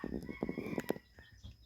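Local Thai native chickens, black-tailed Pradu Hang Dam birds, clucking in short irregular bursts close by, with a few sharper calls mixed in.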